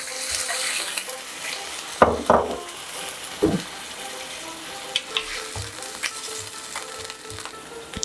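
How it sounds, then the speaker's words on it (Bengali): Raw mango pieces with the stone in a pan, with a few sharp splashy bursts and scrapes as water goes in, then a softer sizzle and occasional stirring knocks; no talking. "আম আমি আটি সমেত কেটে তারপরে টুকরো করে নিয়েছি। এর মধ্যে এবার 1 কাপ মতো জল দেব।"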